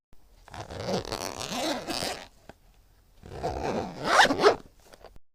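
A zipper on a school bag is pulled in two separate long runs with a pause between, close and clear, each stroke a rasping rip, with no talking.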